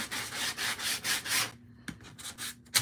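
Sandpaper rubbed back and forth along a wooden edge for DIY decor, rhythmic close strokes for about a second and a half, then a few lighter scrapes.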